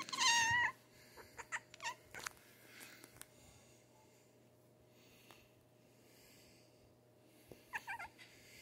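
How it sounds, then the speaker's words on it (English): A cat held in someone's arms gives a clear, close meow at the start, then scattered soft chirps and rustles, and ends with a second, quieter meow over a low background hum. "Why are you meowing so cute?"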